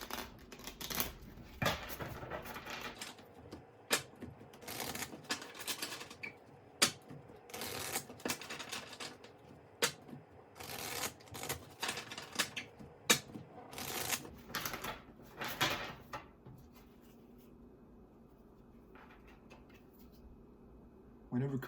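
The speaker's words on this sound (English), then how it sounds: "Shuffle 10 times." Tarot cards shuffled by hand, a series of crisp riffling bursts and soft slaps repeated in quick rhythm, close and clear, quieter near the end.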